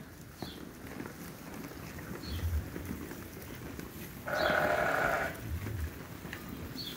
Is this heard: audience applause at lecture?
no